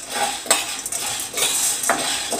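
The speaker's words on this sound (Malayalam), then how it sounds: "അതിലേക്ക് അര ഗ്ലാസ് വൻപയർ അല്ലെങ്കിൽ ഉണക്കപ്പയർ ഇട്ട് കൊടുത്തിട്ടുണ്ട്. ഇത് നന്നായിട്ട് വറുത്തെടുക്കുക" Dry cowpeas roast in a wok while a metal spoon stirs them, producing close scraping and clinking strokes with a few sharper knocks over a couple of seconds.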